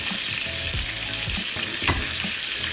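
Garlic and rosemary lamb chops sizzle steadily on a grill, a constant close crackle with a few louder pops and spits, no voices over it.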